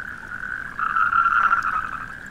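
A toad gives a sustained trilling croak, steady and fairly close, rising a little in strength midway, on industrial wasteland between the Rhine and Ruhr in Germany.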